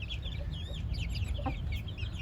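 Broody Indian hens with their chicks in a coop, giving soft clucks and high chick peeps close by, over a low steady background hum, no talking.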